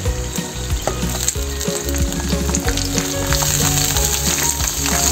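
Pork rind chicharon frying in hot oil and sprinkled with water, giving a loud, continuous, crackling sizzle with bursts of popping and no voices.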